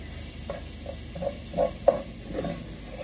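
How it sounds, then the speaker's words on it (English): Harira soup stirred in a cooking pot, a spoon scraping and knocking against the sides in a few soft strokes over a faint simmering hiss, close and quiet with no talking. "Go ahead and stir this up"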